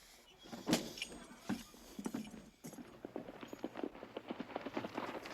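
A hard-ridden horse clip-clops along in a Western setting, a run of distinct hoof strikes in a quick uneven rhythm, fairly close and fairly quiet, with no talk.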